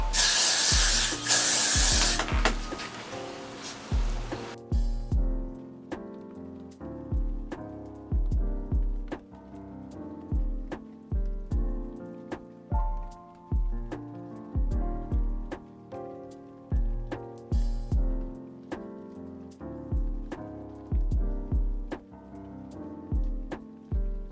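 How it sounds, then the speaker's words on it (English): A loud, steady hiss of hair spray on a lace wig lasts a few seconds, then rhythmic background music continues alone. "Spray the whole lace back."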